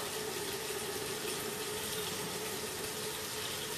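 Water runs steadily from a tap in a continuous, even hiss and splash, close by and unbroken, with no voices.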